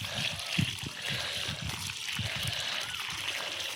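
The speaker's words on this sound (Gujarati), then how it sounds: "અમે અત્યારે આ જે સંતરાનું ઝાડ છે તેને પાણી આપી રહ્યા છીએ" Water pours from a container onto the ground beneath an orange tree in a home garden, giving a steady splashing, trickling sound close by.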